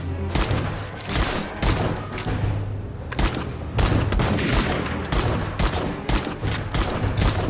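Shotgun blasts in 7 Days to Die ring out close and loud, a series of heavy booming shots at irregular intervals over a constant low game rumble.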